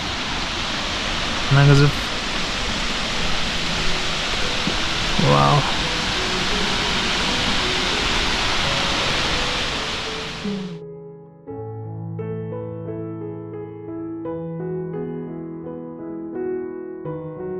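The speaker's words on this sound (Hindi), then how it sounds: "ये देखिए उस सामने वाटरफॉल है, वो आधा जमा हुआ है" A half-frozen waterfall in Tawang, Arunachal Pradesh, pours a loud, steady rushing roar for about eleven seconds, broken by brief spoken exclamations; then it cuts off abruptly and music takes over.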